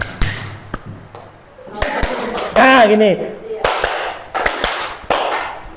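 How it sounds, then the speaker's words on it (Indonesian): Hands clapping the 'tepuk 5' rhythm in a group, sharp claps in short bursts set apart by speech, with someone talking and singing between the claps. "Ayo kita tepuk 5 dulu Bu."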